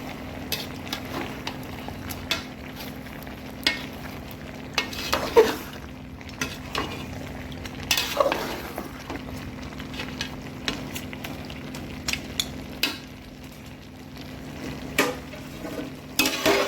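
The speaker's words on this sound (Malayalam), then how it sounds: "ഇടയ്ക്ക് അടപ്പൊക്കെ തുറന്ന് ഒന്ന് ഇളക്കി കൊടുക്കാം." Meat curry being stirred in a pot on the stove, with a soft scraping spoon, occasional light clinks against the metal and a low simmering sizzle underneath, steady and close, with no talking.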